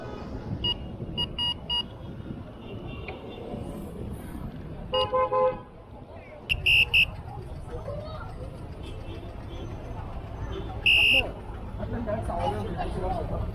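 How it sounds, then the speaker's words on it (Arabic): Short car horn toots sound several times over steady traffic noise and background voices, loud and fairly close. "ما الكلاكس ده مش محوق"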